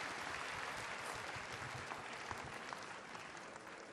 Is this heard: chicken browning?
no